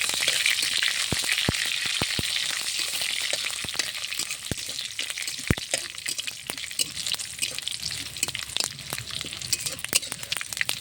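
Crushed garlic, dried chili and black mustard seeds fry in hot oil with a loud, steady sizzle, while sharp pops and spattering crackles break through at irregular intervals, close and continuous.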